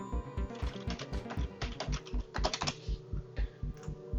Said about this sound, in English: I could type in their email.